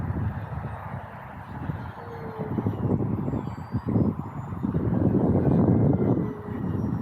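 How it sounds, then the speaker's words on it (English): An E-Flite P-39 Airacobra 1.2 meter RC warbird drones overhead with a steady motor hum and a broad airy swoosh as it passes at moderate distance, swelling louder toward the end. "Really nice swooshing sound from the wing also when you fly a little bit closer."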